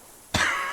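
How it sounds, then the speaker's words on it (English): A single short, harsh cough from a character in the video game Disco Elysium, close and clear against a quiet background. "He coughs once more, then puts his hand on his belly."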